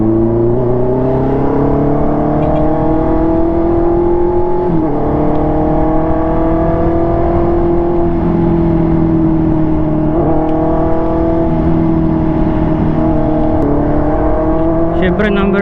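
A Honda CB650R inline-four motorcycle engine revs with a sustained, rising and falling high-pitched scream, loud and close, holding steady throughout with slight pitch dips between pulls.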